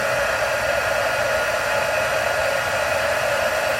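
A heat embossing tool blows a steady, loud, even rush of hot air while it melts embossing powder, with no other sounds.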